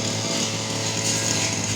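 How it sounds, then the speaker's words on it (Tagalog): A grass cutter trims grass among banana plants on a small farm, a steady, continuous motor whine running close and loud throughout without a break. "Ayan, nagtatabas. Gamit namin yung grass cutter."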